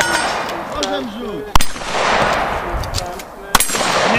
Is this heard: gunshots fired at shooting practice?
yes